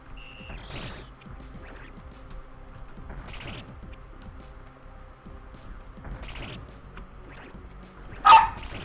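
A dog indoors gives a few separate yipping barks and whimpers in short bursts spread across the stretch, close and moderately loud, followed by a sharp electronic beep near the end.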